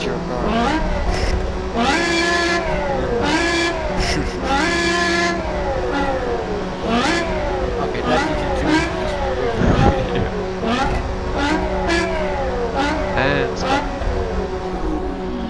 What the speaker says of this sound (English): everybody rev their cars.